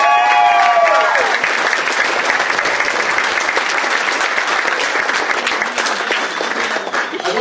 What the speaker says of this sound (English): let's get another round of applause for the bride and the groom